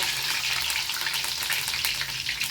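Cumin, mustard seeds and curry leaves sizzle vigorously in hot oil, a dense, continuous crackling hiss heard up close and fairly loud with no voices.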